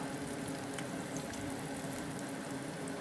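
Crushed garlic, ginger and cut green chillies fry in hot oil for a tomato rasam, giving a continuous, dense, close sizzling hiss with no pauses and no voices.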